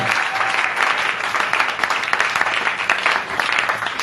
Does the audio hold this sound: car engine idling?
no